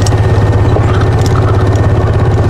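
A vehicle engine idles close by with a loud, steady low rumble and a rhythmic throb, running on without a break or any talk over it.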